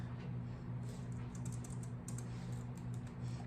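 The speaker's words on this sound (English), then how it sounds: "I'm gonna type in" Quick, even keystrokes on a computer keyboard, light and close, with a low steady hum underneath and no talking.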